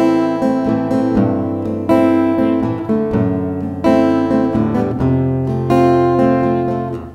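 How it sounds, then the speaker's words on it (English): Open, ringing guitar strumming with full sustained chords, steady rhythmic strokes at an even, fairly loud level, no voices. "If I'm not palm muting, it sounds like this."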